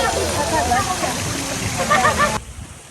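Water spills over the edge of an infinity pool at a Bataan beach resort in a continuous splashing rush, loud and close, with voices talking over it before it cuts off near the end.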